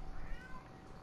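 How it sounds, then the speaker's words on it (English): A house cat gives a faint, drawn-out meow nearby, with low room noise and no talking. "the cat's kind of going crazy"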